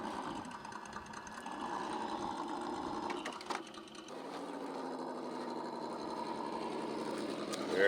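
Traxxas TRX4 RC crawler on monster tires crawling over rocks, a steady high electric motor whine that wavers with throttle and briefly drops before surging again, close and continuous.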